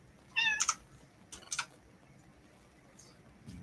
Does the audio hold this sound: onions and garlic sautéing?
no